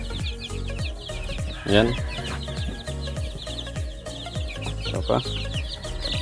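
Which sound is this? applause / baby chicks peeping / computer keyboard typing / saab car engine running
baby chicks peeping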